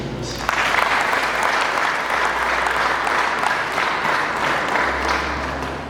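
A crowd applauds continuously for the new Rubavu district mayor, Mulindwa Prosper. The clapping is dense and sustained, starting abruptly after a brief pause and easing slightly toward the end.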